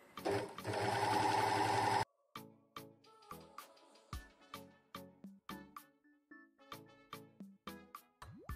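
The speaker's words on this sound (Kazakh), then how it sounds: "Одан кейін оверлокпен өңдеп аламыз." Overlock machine finishing the seams of culotte trousers: a loud continuous sewing run for about two seconds, then a series of short rhythmic machine bursts and clicks, close by with no talk.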